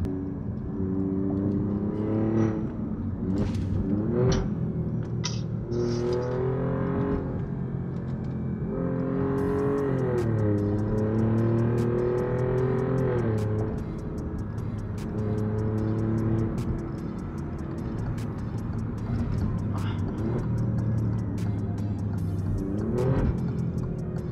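An Alfa Romeo Giulia Quadrifoglio heard from inside, engine droning loud and steady as it accelerates, with rising and falling revs and sharp blips on downshifts.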